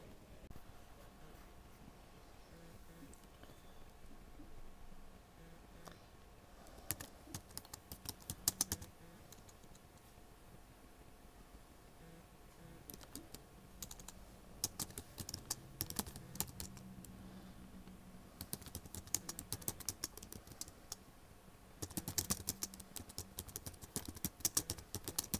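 Fast typing on a computer keyboard, bursts of rapid close key clicks separated by quieter pauses, growing denser toward the end.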